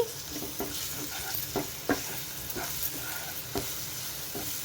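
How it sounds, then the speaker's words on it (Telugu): Fried cowpea pods (alisanda kaya) with turmeric and ginger-garlic paste being stirred in a pan: a steady soft sizzle broken by regular scrapes and taps of the spoon, fairly close and moderate in volume. "ఇందులోకి 1/2 టీ స్పూన్ పసుపు, 1/2 టీ స్పూన్ అల్లం వెల్లుల్లి పేస్ట్ వేసి చక్కగా కలుపుకోవాలి."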